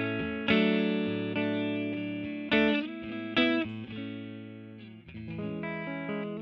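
An electric guitar through a Beetronics Royal Jelly overdrive pedal with a gritty overdriven tone plays sustained chords and a few single notes, ringing out clearly with no voices.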